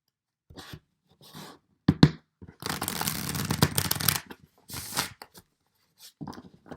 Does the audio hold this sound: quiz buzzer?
no